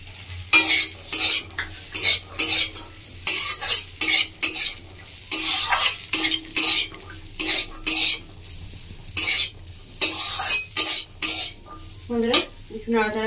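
Peas are stirred in a frying pan over a soft sizzle, with regular bursts of scraping and clinking from the utensil against the pan, about a dozen strokes in an even rhythm, close and clear, and no talk.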